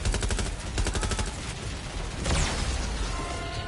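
Sustained automatic gunfire in Watch Dogs Legion online play, rapid rhythmic bursts of shots over a dense noisy background, followed by a louder blast and continued chaotic firing.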